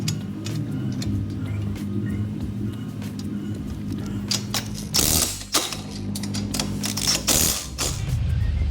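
A ratchet clicks in quick bursts while retorquing lift kit bolts on a Subaru Crosstrek, close-up mechanical ticking over a steady low hum, with a few sharper metallic knocks partway through.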